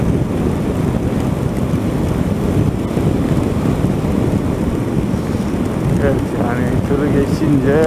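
Steady rushing noise of night rain beating on a moving car on the road near Sivrihisar, Turkey, with someone speaking briefly near the end.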